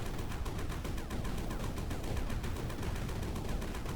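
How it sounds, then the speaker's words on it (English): Rapid gunfire from a gun in the Sandustry video game, a dense, continuous burst of shots at steady loudness for the whole stretch, with no talk. "So we use our gun, shoot right here."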